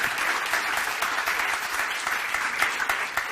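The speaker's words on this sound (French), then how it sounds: "Alors on peut applaudir nos intervenants, les remercier pour le travail et les précisions." A conference audience at an event on electric-vehicle battery management applauds its speakers, with dense, steady clapping from a large crowd filling the room.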